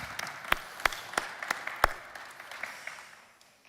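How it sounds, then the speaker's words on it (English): Applause for panel speakers at a conference: a quiet, sparse scattering of claps from a small audience, a handful of sharper hand strikes standing out before the sound tapers off. "Just give us a warm round of applause,"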